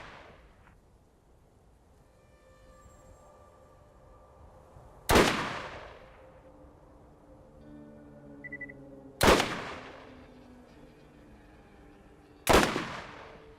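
Borderlands rocket turret firing: three separate sharp, loud blasts spaced several seconds apart, each a sudden crack with a short decaying tail, over quiet game ambience with faint tones between them.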